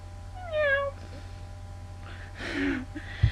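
A human voice imitates a cat's meow, a rising then falling whine, followed by a breathy gasp and a soft thump.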